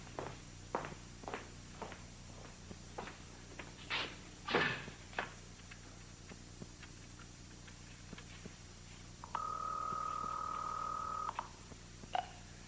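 A telephone is dialed in a quiet room: a few soft footsteps and handling knocks, then a steady electronic dial tone holding for about two seconds before more light clicks.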